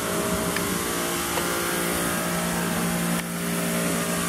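A car engine roars loudly and continuously as the driver performs a stunt, a dense sustained sound with no speech.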